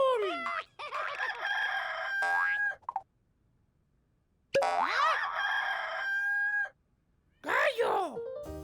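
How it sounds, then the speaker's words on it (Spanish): A cartoonish rooster crow in a children's animal-sounds vocabulary program comes in three bright, bouncy bursts mixed with springy boing-like effects, separated by short silences. "¡Gallo!"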